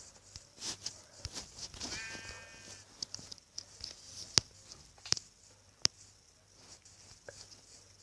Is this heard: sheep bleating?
yes